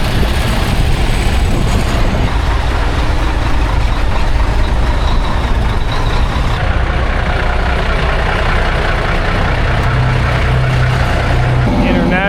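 An International truck with a Detroit two-stroke diesel, probably an 8V71, at a truck show runs loud and steady with a dense, continuous engine roar throughout.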